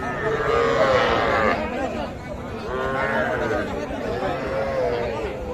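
Young calves at a crowded cattle market, with mooing and lowing mixed into loud surrounding chatter, people talking close by over the animals.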